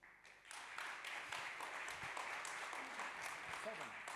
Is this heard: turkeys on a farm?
no